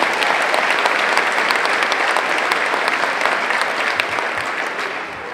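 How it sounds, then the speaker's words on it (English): Warm, dense applause from a crowd at a May Day opening event honoring staff, continuous and fairly loud, easing slightly toward the end. "wonderful, warm round of applause"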